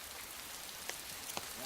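Steady rain hisses evenly in a butterfly valley in southwest China, with a couple of faint drips tapping through the wash.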